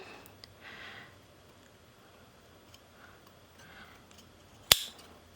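A single sharp snip of fabric scissors cutting denim at an angle while sewing a jeans waistband, one crisp close click after several seconds of near silence and faint handling rustle.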